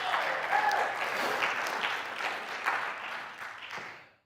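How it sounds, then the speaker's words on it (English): Audience applauds steadily at a talk by JD Schramm, a dense round of clapping throughout that fades out at the end. "Could we have just a round of applause?"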